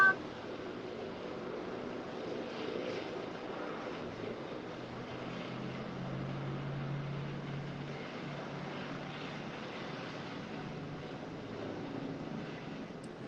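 A hospital helicopter lands nearby, producing a continuous low rotor and engine rumble that swells slightly in the middle, steady and moderately loud throughout with no talking.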